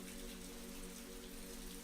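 Soft rain falls on a rainy evening around a cozy house, a quiet unbroken patter of drops over a faint steady drone, with no talking.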